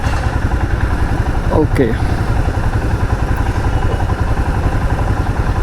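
Royal Enfield Himalayan BS6 2020 motorcycle engine while riding, a steady loud rumbling drone with wind noise throughout, and someone speaking briefly over it.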